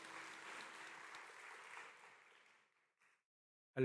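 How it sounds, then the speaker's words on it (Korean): A church congregation at a Sunday service applauds in praise, a soft, distant wash of clapping that tapers off to silence before a sudden loud sound at the very end. "우리 하나님께 영광의 박수 올리겠습니다."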